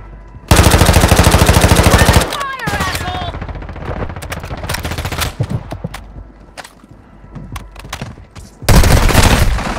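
Automatic gunfire in the video game Warzone Mobile, with a long loud rapid burst near the start, scattered single shots and distant pops through the middle, and another heavy burst at the end, with brief speech mixed in.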